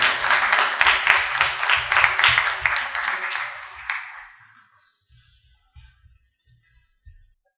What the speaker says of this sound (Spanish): Damos un gran aplauso a don Cristian Farías.